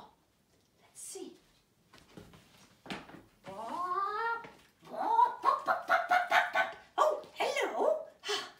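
Children's voices imitate a chicken, producing a string of high, bursty clucking and squawking calls that swell and repeat in quick succession after a few quieter starts.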